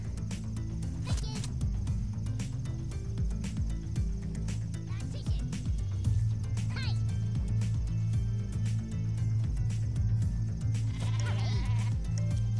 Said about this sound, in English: That's a sheep. That's a super sheep.